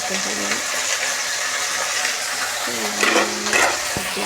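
Ingredients frying in a pan while preparing a masala for grinding in a home kitchen: a continuous loud sizzle with stirring and the clink of a utensil against the pan, and a person talking over it.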